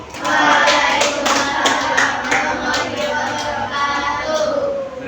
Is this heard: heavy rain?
no